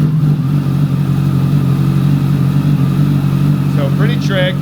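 A turbocharged custom motorcycle engine runs at a steady, loud idle with a deep, constant rumble. A voice briefly cuts in near the end.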